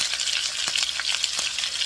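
Steady hiss and crackle of pork and apples frying in vegetable oil on medium heat, close and continuous with a few brief louder spits, nobody talking.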